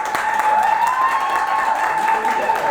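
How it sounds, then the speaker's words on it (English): Audience applause at a lecture event held by a workers' union with a migrant workers' protection association and Al Hilal hospitals: a steady, continuous clatter of many hands, with a sustained tone running under it. "Can you put your hands together for these wonderful people?"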